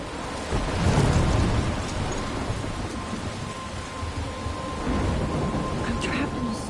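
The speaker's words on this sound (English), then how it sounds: "I'm trapped in a storm?" A thunderstorm with heavy rain in the video game Life is Strange, with steady loud rainfall and low rumbling thunder swelling near the start and again later, plus a faint sustained tone underneath.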